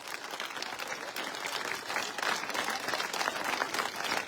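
Steady applause from a large crowd, dense overlapping clapping that holds at full volume throughout with no pauses.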